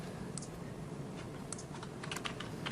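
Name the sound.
typing a model number on a computer keyboard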